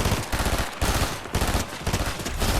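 A new rifle fires in the Fortnite Battle Royale video game, loud and close, in rapid repeated bursts of sharp shots with brief pauses between volleys.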